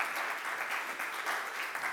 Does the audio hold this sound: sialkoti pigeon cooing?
no